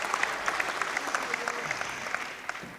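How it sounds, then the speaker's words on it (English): Indoor crowd at a British National Squash Championships women's match applauding, a moderate spell of scattered individual claps with distinct sharp hits that thin out toward the end. "Crowd enjoying that one."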